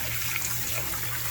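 Tap water runs into a kitchen sink while rice is rinsed. A steady, close rush of flowing water continues without a break and without any talk.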